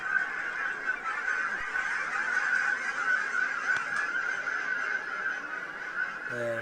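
A large flock of geese honks continuously and loudly, a dense overlapping chorus of calls passing overhead, with no talking.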